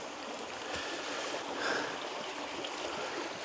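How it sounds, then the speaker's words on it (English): The small Webburn River on Dartmoor near Widecombe flows with a soft, continuous hiss of rushing water, faint and steady with a slight swell midway. "So this is the Webburn River."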